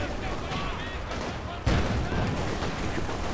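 Gunfire in a World War II strategy game's Market Garden match, with a sniper among the shooters: dense crackling shots and a sharper burst partway through, all layered over continuous battle noise.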